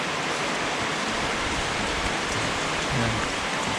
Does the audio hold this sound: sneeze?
no